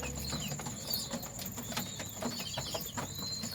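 Pigeons and their chicks feed on wheat at night, with soft wing flaps, scattered pecking taps and faint coos, close and quiet with a low hum in the background.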